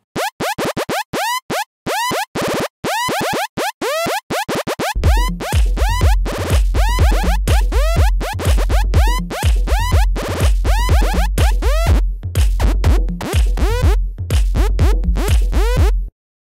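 A bright, buzzy saw-wave synth lead with pitch modulation, as used in electro house or trap, plays rapid repeating notes with pitch swoops, first alone and then over a heavy pulsing bass.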